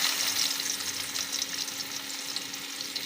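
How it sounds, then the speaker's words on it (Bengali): Chopped onions sizzle steadily in oil in a wok, a continuous close broadband frying hiss with no pauses. "দিয়ে দিচ্ছি কড়াইতে পরিমাণ মতো তেল, দিয়ে দিব কেটে রাখা পেঁয়াজ"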